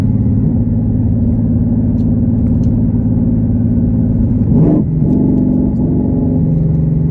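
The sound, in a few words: twin turbo car exhaust roaring with electric cutouts opened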